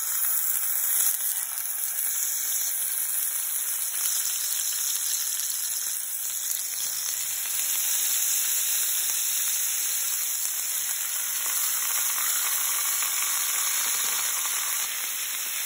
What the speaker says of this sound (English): I'm just going to add the steak into the frying pan.